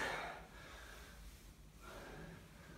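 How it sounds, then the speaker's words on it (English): Slow, heavy breathing during a home workout, a long exhale followed by a softer breath after a short pause, close and fairly quiet. "Breathe in, breathe out."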